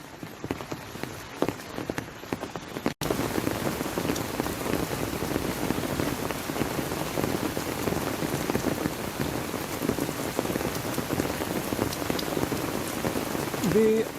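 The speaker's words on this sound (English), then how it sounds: "you can see the rain is so heavy" Heavy rain pouring down outdoors near a park, a dense continuous hiss of drops hitting surfaces, lighter for the first few seconds then suddenly loud and steady.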